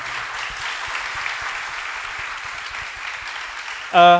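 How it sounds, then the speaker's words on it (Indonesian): An audience applauds evenly throughout a podcast session at a regional conference, ending with a short electronic tone. "kita berikan dulu tepuk tangan untuk Aldi."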